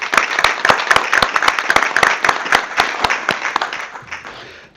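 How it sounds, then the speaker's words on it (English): Scattered applause from a modest crowd at a city council meeting, individual claps clearly distinct and fairly near, holding steady for a few seconds before thinning and fading out at the end. "if we could just give them, thank you, a round of applause."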